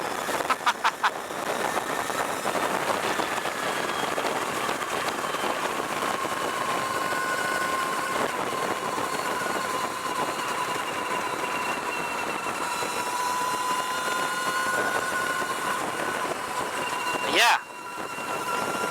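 A 2023 Energica EsseEsse+ RS electric motorcycle pulls hard at full throttle, its steady electric whine holding under constant wind rush, close and loud, with a sharp swell near the end.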